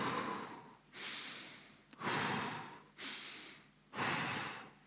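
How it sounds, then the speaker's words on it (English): A speaker at a conference talk breathes heavily and audibly into the microphone, with about five rhythmic, rasping breaths spaced roughly a second apart, close and steady with no speech. "You may hear my breathing."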